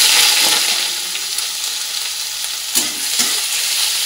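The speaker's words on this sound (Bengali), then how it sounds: "এগুলো একটু হালকা করে ভাজা করে নেবো।" Chopped vegetables frying in a little white oil in a hot wok, a loud, steady sizzle with stirring scrapes and a few sharper clinks, with no one speaking.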